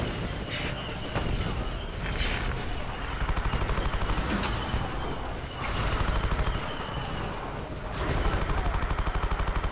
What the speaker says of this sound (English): They sound like machine guns.